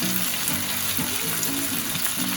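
Chicken malai tikka pieces sizzling in a pan on the stove, a dense continuous frying hiss with faint bubbling, close and fairly loud, without speech.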